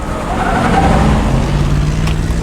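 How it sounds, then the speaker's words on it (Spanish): Car being driven off in a scene from Terminator: Dark Fate, a loud engine revving up and pulling away with a brief tire screech and no talk. "va Grace y le roba el coche."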